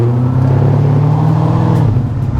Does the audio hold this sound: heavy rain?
no